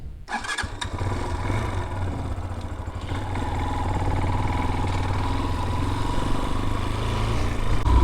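Peacesports Brozz Recon 250 dual-sport enduro motorcycle, its 229 cc engine starting with a brief crank then settling into a steady close idle that grows slightly louder.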